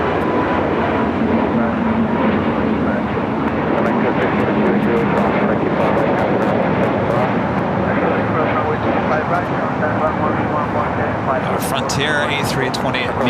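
A Frontier Airbus A320 jet at Los Angeles International Airport gives a loud, sustained roar with a broad rushing engine noise throughout, while a person talks over it.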